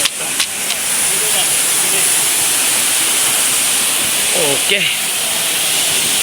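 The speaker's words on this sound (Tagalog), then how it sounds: "Lalapit tayo guys, lalapit tayo sa falls." Cancel Falls, a waterfall with clear water, heard as a loud, steady broadband rush that fills the scene from near by, with a short spoken word and a brief voice partly over the roar.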